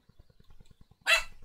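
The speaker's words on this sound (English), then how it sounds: "Sorry about the dog, he's" A dog barking for attention lets out one loud, close bark after a second of faint rhythmic tapping.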